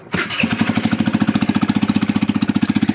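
A loud Peugeot Kisbee 4-stroke scooter engine idles steadily, its rapid, regular chugging pulses continuing unbroken for a few seconds with no voices.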